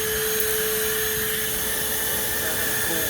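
A Ridgid dual 18-volt cordless vacuum, model HD0918, runs steadily inside a car as the mats are cleaned, giving a loud, even motor whine with airflow hiss and a fixed tonal hum throughout, no talking.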